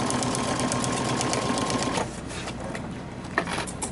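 Sewing machine stitching a bottom zipper onto a fur pillow, a loud continuous close-up motor whir that stops after about two seconds, leaving softer handling rustles.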